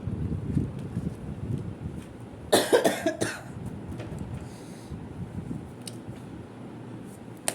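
A short burst of several harsh coughs breaks out close to the microphone amid quiet background rumble.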